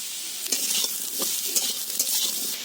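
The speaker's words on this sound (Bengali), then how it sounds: "এগুলোকে এবার লাল লাল করে ভেজে নিতে হবে" Potatoes frying in oil in a pan hiss with a steady, bright sizzle, broken by a few soft scrapes and clinks of stirring, close and moderately loud.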